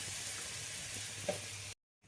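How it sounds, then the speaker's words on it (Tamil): Tamarind kuzhambu with green turkey berries bubbling in a pan, a steady close hiss of simmering liquid with a brief pop, ending in sudden silence. "குழம்பு நன்கு கொதிக்க ஆரம்பித்து விட்டது"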